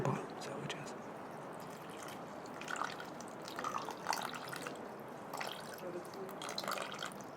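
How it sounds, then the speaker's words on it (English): Pour-over coffee drips through a paper filter into a cup after boiling water is poured over it, soft close trickling and small drops at low volume with quiet talk underneath. "the coffee drips through into the cup at the bottom"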